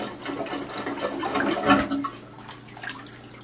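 Plunger working a clogged toilet, with water sloshing and gurgling in a steady churn that swells midway, then eases off, close up.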